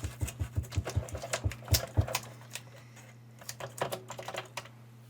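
Keys clack on a Commodore computer keyboard in a quick burst of sharp taps close by, then a sparser, quieter run of presses over a faint background hum.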